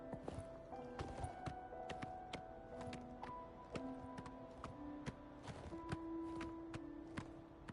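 Horse hooves walking in the video game Oblivion Remastered: a steady, evenly spaced clip-clop of hoofbeats, clear and close, over soft sustained game music.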